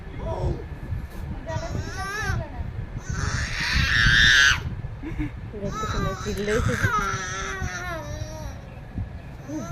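A young child cries and screams in a home, loud and close, with wailing rising to a sharp peak midway, while an adult keeps talking over it throughout.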